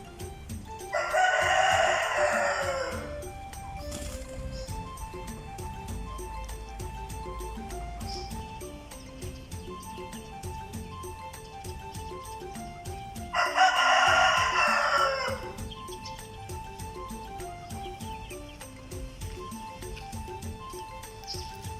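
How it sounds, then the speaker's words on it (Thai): Two roosters on a Thai farm crow loudly nearby, one long cock-a-doodle-doo near the start and another about twelve seconds later, with faint clucking and steady background ambience in between. "ไก่สองตัว"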